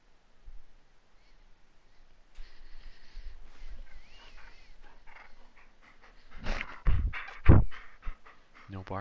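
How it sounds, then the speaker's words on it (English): A dog panting in a room during a Dreadnought gaming session, soft rhythmic breaths building to louder snorts and huffs near the end, with faint background sounds. "No barking."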